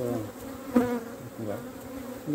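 Honey bees buzz around an open hive during a frame inspection, a dense, droning hum close by with individual bees swelling louder as they pass near.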